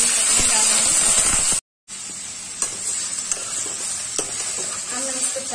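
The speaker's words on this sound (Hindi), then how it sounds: "तेल गर्म हो गया है। मैं इसमें कटहल डाल रही" Jackfruit pieces dropped into hot mustard oil in a pan give a loud, close, steady sizzle and hiss. The sound breaks off briefly, then continues more softly with occasional stirring clicks.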